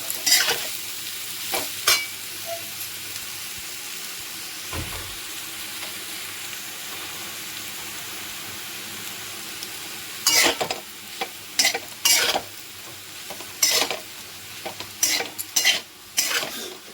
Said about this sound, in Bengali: ভাতের সঙ্গে সব একবারে ভালো করে মিশিয়ে নেব